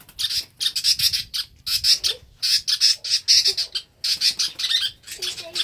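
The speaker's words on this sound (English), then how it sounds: "There's the mama bird. It's really mad at him." An angry mother bird squawks loudly and close by in rapid bursts of harsh repeated cries, with short pauses between each volley.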